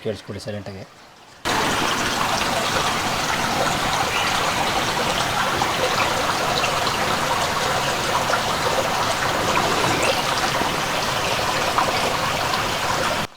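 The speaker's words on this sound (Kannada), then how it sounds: "ಇಲ್ಲಿ ನಿಧಾನಕ್ಕೊಂದು ಜರಿ ನೀರು ಹರಿಯೋ ಸೌಂಡ್ ಬರ್ತಾ ಇರುತ್ತೆ ನೋಡಿ" A small stream trickles and gurgles steadily near a wooden house in the dense Agumbe forest, a continuous close wash of flowing water after a brief voice at the start.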